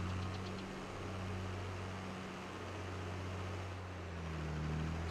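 An 8-ton tractor in Farming Simulator 22 drives with a steady, droning engine hum that stays close and constant, with a slight pitch shift toward the end.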